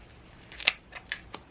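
Scissors snipping strips of double-sided foam tape for card making, three or four quick crisp cuts close by in a quiet room.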